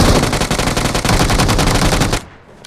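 Rapid automatic gunfire from other players trading shots in a battle in Yasnaya, a loud, dense burst of continuous rounds that cuts off abruptly near the end and leaves a quiet tail.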